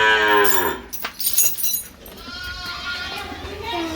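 A cow on a village farm gives a loud, drawn-out moo close by, followed by livestock shuffling and bleat-like calls in the background, with some talking nearby.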